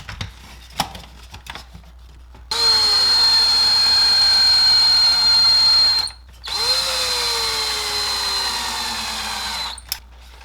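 A power drill drives screws into the bottom of a Traxxas Maxx RC truck. Two loud, close whirring runs of several seconds each start with a rising pitch, separated by a short pause, with light handling clicks before them.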